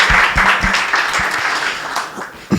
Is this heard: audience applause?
yes